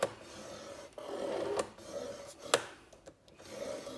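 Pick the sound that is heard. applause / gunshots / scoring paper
scoring paper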